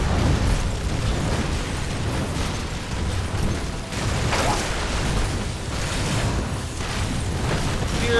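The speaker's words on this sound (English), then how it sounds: "Napalm airborne." In the Heroes of the Storm video game, a napalm strike erupts in a dense, roaring wash of explosion noise. It stays loud and sustained with rumbling surges from start to finish.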